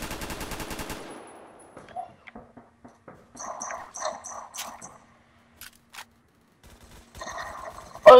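Rapid automatic gunfire from the video game Phantom Forces rings out in a short opening burst, then scattered single shots and bursts follow at varying distances, with another loud burst at the end.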